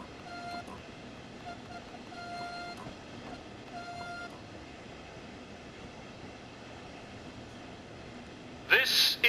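A train in Train Sim World 2 crawls slowly into Seaford station on the Brighton to Seaford branch line, with a low steady rumble, faint repeated tonal chimes early on and a brief louder burst near the end.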